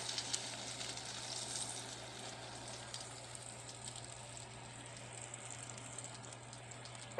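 A frozen ribeye steak sizzles steadily inside an air fryer, a soft continuous crackle with a low fan hum beneath it, with no talking.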